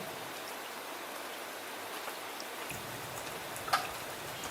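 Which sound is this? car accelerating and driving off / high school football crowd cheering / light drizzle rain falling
light drizzle rain falling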